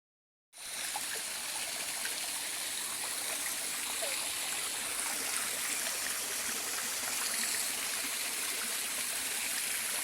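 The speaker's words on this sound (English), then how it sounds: "we finally made it up to the top of Panther Creek Falls" Panther Creek Falls in the Cohutta Wilderness rushes in a steady, broad roar of falling water that starts abruptly and holds at an even level, with no voices.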